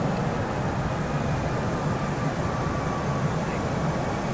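Airbus A319 jet engines at climb thrust in the FSX flight simulator, a steady broadband roar held evenly throughout with no voices.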